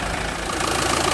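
Rebuilt 2.0 HDI engine in a Fiat Scudo van running steadily at idle, a continuous close mechanical drone with an even diesel clatter and no voices.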